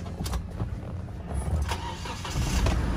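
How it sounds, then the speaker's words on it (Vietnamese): A used seven-seat car's engine cranks and fires up, with a brief rough start that settles into a steady idle, close and fairly loud throughout. "Bây giờ em có thể là nổ máy lên cho các bác mình nghe qua tiếng máy nhá"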